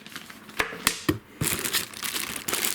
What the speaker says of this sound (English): Big plastic bag that the AIO comes in.